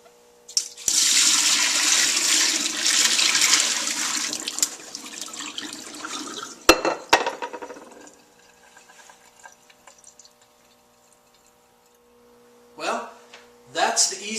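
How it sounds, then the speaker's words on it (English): Water runs loudly from a tap for several seconds while pomegranate arils are strained and drained, followed by a few clattering handling sounds and short splashes after quiet. "I'm going to go ahead and strain that real quick, and then I'm going to drain my water out"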